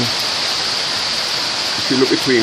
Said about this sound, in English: you can see the water flowing out